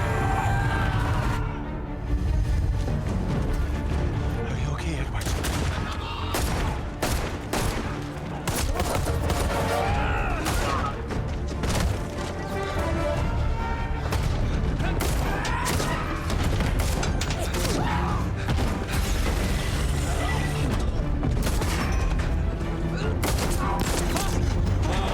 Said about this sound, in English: This leads to Bess getting blasted with artillery, with more soldiers coming out of nowhere.